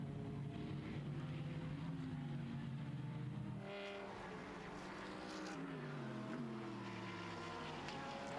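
GT and touring race cars scream past a trackside position at the Slovakia Ring, engines howling high then dropping in pitch as they pass, one car after another, with gear shifts and a steady loud roar throughout and no voices.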